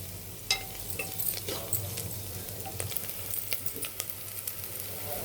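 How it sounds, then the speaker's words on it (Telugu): Ginger garlic paste frying in a pan for a curry, a soft continuous sizzle broken by sharp pops and crackles and occasional stirring scrapes, close and fairly quiet. "అల్లం వెల్లుల్లి పేస్ట్ వేగిపోయిందండి"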